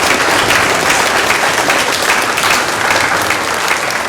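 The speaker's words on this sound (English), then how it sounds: "Let's give them a round of applause." A school chapel audience breaks into loud, sustained applause, a dense wash of many hands clapping that stays even and close throughout.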